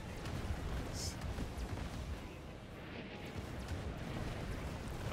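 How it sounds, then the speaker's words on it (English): Explosions in the Marvel's Avengers video game, heard as a dense, continuous rumbling roar of blasts and booms with no clear individual hits, loud and close. "Okay, explosions."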